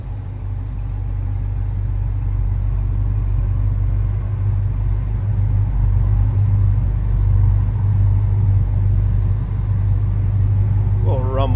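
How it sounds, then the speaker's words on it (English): A 1972 Chevrolet Chevelle with a big block V8 and a Holley 750 carburetor idles with a steady, deep low rumble close by, a brief higher mechanical whine rising near the end. "Little rumble coming out of that big block underneath the hood."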